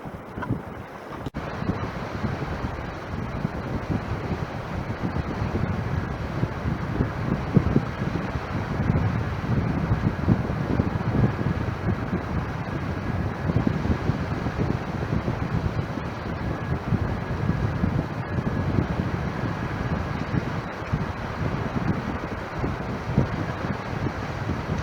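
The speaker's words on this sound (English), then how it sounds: "The wind's turned round southwest. It's actually blowing the tide back out." Steady southwesterly wind buffets the microphone on a UK flounder-fishing beach, a continuous low rumbling roar with faint surf beneath and no talking throughout.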